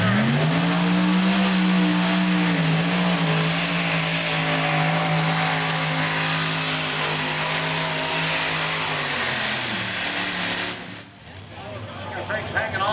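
A modified pulling tractor powered by an Allison aircraft engine roars loudly and steadily at an NTPA tractor pull in Tomah, Wisconsin, its deep drone holding for about ten seconds before cutting off abruptly.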